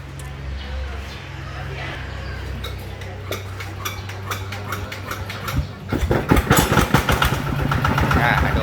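A motorcycle engine idles steadily at a Thai motorcycle shop, a low constant rumble under ticking and clinking, with a louder rougher patch of revving near the end; people talk nearby.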